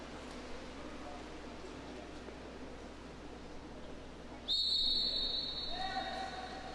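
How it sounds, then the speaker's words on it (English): A referee's sharp whistle blasts at a water polo match, loud and sudden after a stretch of muffled crowd and arena murmur, then rings in a shorter follow-up tone as the noise settles back down. "Hayden Wong was whistled for an exclusion, drew the attention of an official."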